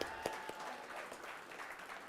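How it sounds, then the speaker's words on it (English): Applause at a gala awards ceremony ripples through the room, a soft, continuous patter of many hands heard from a distance, with a couple of sharper claps near the start. "Another round of applause for AJ."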